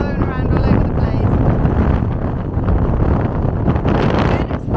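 Strong wind roars across an open clifftop in County Cork, buffeting the microphone with a loud, continuous low rumble and gusty broadband rush that barely lets up.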